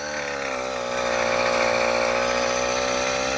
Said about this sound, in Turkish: Bakın hiç pedal çevirmeden kaldırmaya çalışıyorum motoru.